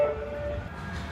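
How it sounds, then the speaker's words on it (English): Train passing on a railway line, heard as a short, dense rumble with a brief high tonal squeal or horn-like note at the start, fairly loud and with no talking over it. "Hang on, we'll let that train go by."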